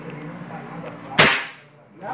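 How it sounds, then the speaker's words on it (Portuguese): A Sumatra 500 PCP air rifle fires a single sharp, loud shot at a standing pencil battery target, its crack ringing out and fading over about half a second against a quiet background. "só foi um disparo, um único disparo."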